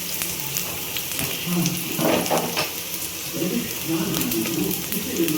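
Chopped onions sauté in hot oil until browned for a mutton curry, a steady close sizzle with scattered crackles and stirring scrapes throughout.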